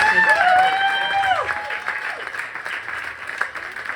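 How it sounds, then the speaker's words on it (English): Applause at a cancer awareness fundraiser at a Burbank restaurant, opening with a sliding tonal whistle-like sound over the clapping, then a steady spread of crowd clapping that fades gradually. "I want to really give a shout out and applaud for Patricia and Carlos for always doing this."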